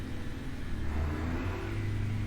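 A Mack Super-Liner truck with an 8V92 engine in American Truck Simulator drones loudly and steadily at high revs in eighth gear, a continuous deep rumble with a slight rise in pitch midway.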